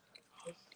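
Someone chews food close to the microphone: soft, faint biting and mouth sounds in a brief burst, with no talking.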